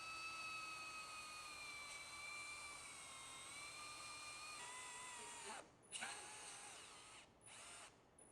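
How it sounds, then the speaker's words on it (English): A motorized hitch lift lowers an e-bike carrier base toward the ground at low torque, a steady whining motor drone that briefly cuts out and resumes near the end. "The hitch lift lowers the e-bike base down towards the ground"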